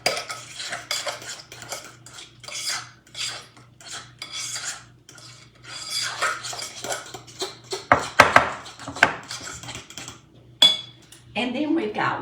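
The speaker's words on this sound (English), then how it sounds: "Mix that in there." Spoon stirring fruit salad in a bowl, a series of close scraping, clinking strokes against the dish in an irregular rhythm, with a voice briefly audible.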